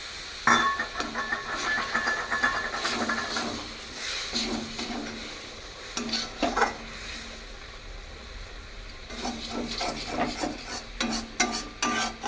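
Ground spice water is poured into long beans cooking in a pan for a yogurt long-bean dish, followed by a steady sizzling simmer with intermittent stirring clatters and scrapes, close and fairly loud, with no voices.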